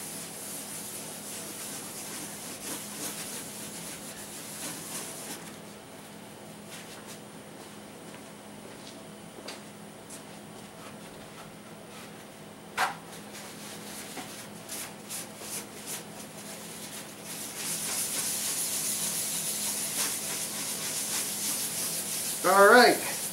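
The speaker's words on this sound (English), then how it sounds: "as I'm rubbing it, it's actually getting into the pore of the wood" Pore filler worked by hand into guitar body wood during finish preparation, a soft low rubbing and scraping that runs steadily and fairly faint, swelling louder near the end with a few sharper strokes.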